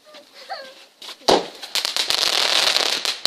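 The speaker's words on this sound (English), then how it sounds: "there's big fireworks there" Large consumer fireworks launch and burst outdoors, one sharp boom followed by a dense, loud crackling shower that keeps popping and sizzling for several seconds.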